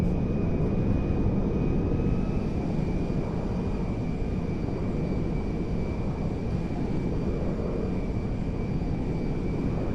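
Engine roar from a C-17A Globemaster III transport aircraft in the GTA 5 video game, heard as a steady, dense, broadband drone with a faint thin tone on top, continuous and unchanging throughout.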